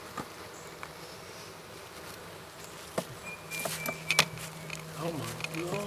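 Honey bees swarming around a bee trap make a faint background buzz, with louder buzzes as single insects fly close past, plus brief knocks and rustles.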